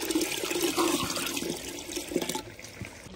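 Water pours steadily into a cooking pot for a village-style mutton pulao, a continuous splashing, gurgling stream that runs close and loud, then thins out near the end.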